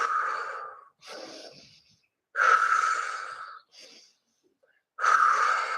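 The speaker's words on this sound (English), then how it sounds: "So inhale, exhale, inhale, exhale." Deep, heavy breaths during a holistic workout exercise, forceful breathy rushes alternating as inhale and exhale in a slow steady rhythm, with short silent pauses between them, close and clear with no talking.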